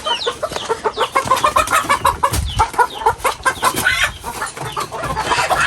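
Several native chickens cluck steadily and close by in rural Mindoro, a busy overlapping chorus of short repeated calls with no talking.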